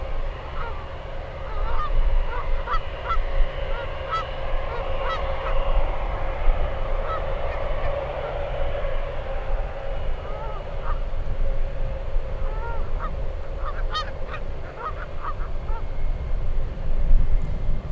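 A flock of geese honks repeatedly near an airport runway at SFO, clustered calls rising over a steady low rumble of aircraft and airfield noise, with some honks louder and closer than others.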